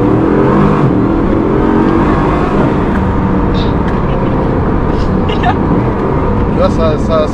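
A Bugatti Chiron accelerates hard during an overtake, its loud, steady engine roar and road rumble filling the cabin throughout while a person speaks over it.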